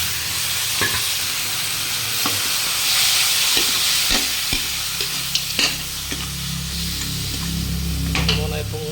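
Pork and onion sautéing in a pan, with garlic already browned, sizzle steadily and loudly up close while a spoon stirs and scrapes against the metal in irregular knocks.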